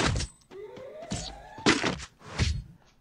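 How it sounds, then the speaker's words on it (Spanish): Gunfire in a PvP shooter video game, several loud sharp shots and impacts in quick succession with a rising whine, mixed with game effects and no talk. "esos son los tiros que quieres que pegue"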